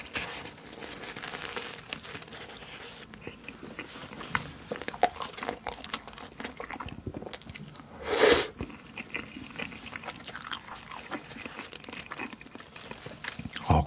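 Close, soft chewing and crinkling of a packaged cream-filled dessert bought from E-Mart, with wrapper rustles, bites and a louder crunch partway through, heard without talking.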